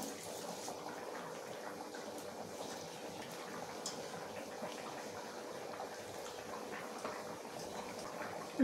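Soaked rice and whole spices, bay leaves and whole garam masala, go into a pot of heated water for a vegetarian paneer biryani. A steady, moderate bubbling and rushing of boiling water runs throughout with no voices.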